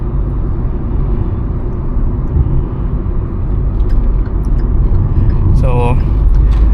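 A Hyundai i20 N Line hatchback drives along a road while overtaking traffic, heard from inside as a steady, loud low engine and tyre rumble, with a brief high chirp near the end.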